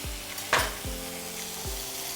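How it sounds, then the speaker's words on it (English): Prawns sizzle in a hot pan, a steady close frying hiss with a few soft clunks and scrapes from turning or stirring, no one speaking. "So we cook this side to make sure the entire prawn is cooked"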